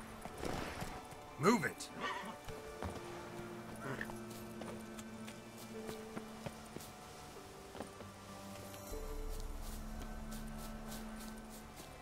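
Geralt's horse Roach galloping in The Witcher 3: Wild Hunt around Novigrad, rhythmic hoof clip-clops with a whinny early on, set against game music while someone speaks briefly.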